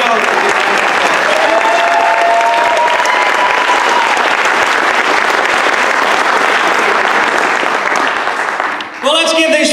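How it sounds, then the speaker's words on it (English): An audience at a December school band concert at Glasgow High School breaks into loud, sustained applause, dense clapping that fills the room nearby for nearly ten seconds before tailing off. "let's give these folks one more big round of applause"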